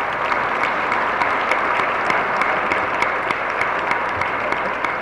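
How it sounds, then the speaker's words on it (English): A Board of Education meeting audience gives a round of applause for two students, steady and dense clapping that holds at an even level for the whole stretch with no talking over it. "if we could just get a round of applause for these two before they go to their concert"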